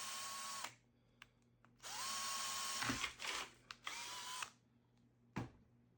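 A power drill fitted with a 7.5mm bit bores a hole for a DC jack on a Hot Wheels launcher, with long whining bursts of drilling broken by short pauses and clicks, and no talking.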